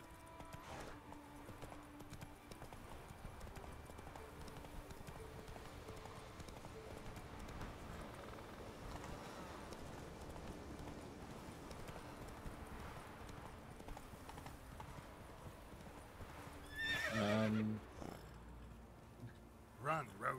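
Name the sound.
horse Roach galloping in The Witcher 3 video game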